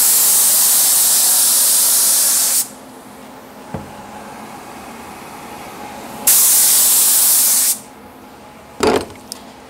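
Hydrogator activator sprayed from an aerosol can for hydro dipping, in two long loud hissing bursts with a pause between, followed by a few short clicks and knocks.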